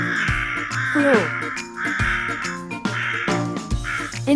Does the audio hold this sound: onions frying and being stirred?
no